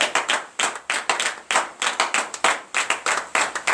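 A church congregation at morning prayer in Benin claps together in acclamation, crisp hand claps landing in a quick, uneven but continuous rhythm, close and clear, with no talk over them.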